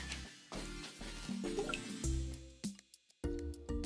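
Food coloring mixed with oil poured into water, giving a series of close, soft drips and liquid splashes with brief pauses and a short silent gap near the end.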